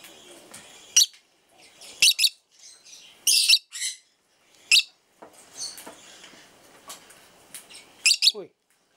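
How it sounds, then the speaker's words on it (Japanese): A pet lovebird gives sharp, high chirps and squawks in scattered bursts close by, with short pauses between calls, directed at a Pacific parrotlet in the same room. "相棒の小桜じゃなくて豆ルリハをね、これ呼んでるんだと思いますよ"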